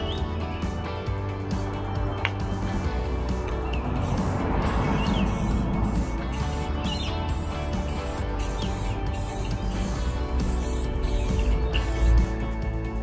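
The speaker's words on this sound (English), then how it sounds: "What I'm going to do next is I'm going to give him a coat with this stuff, and it's a clear gloss" Clear gloss lacquer is sprayed onto a mud crab in several short hissing bursts that repeat at fairly regular intervals over a steady background hum.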